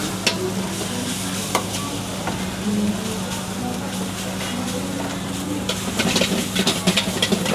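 Crab fried rice is stir-fried in a well-used iron wok at a market stall in Nakhon Ratchasima, Thailand, with a steady sizzle, repeated scraping and clanking of the spatula, and a low engine-like hum underneath.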